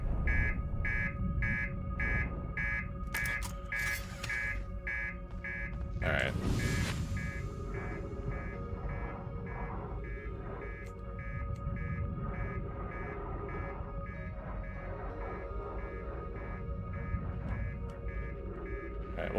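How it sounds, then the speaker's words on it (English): Master alarm aboard the spaceship in the video game Outer Wilds: a steady chain of rapid, bright electronic beeps repeats through the whole stretch, loud and insistent, with a person talking over it and a burst of noise early on. "Master alarm."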